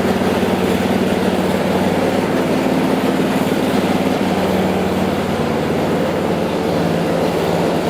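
A new Ariens Deluxe ST24LE 24-inch snow blower engine runs on its first start, a loud, steady, close drone with a low rumbling hum and no talking.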